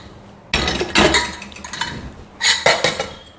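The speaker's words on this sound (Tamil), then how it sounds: "நான் ஒரு குக்கர் எடுத்துட்டேங்க." A pressure cooker and metal pots being handled in a home kitchen while making sambar, loud close clanks and scraping knocks in two busy bursts, with no talking.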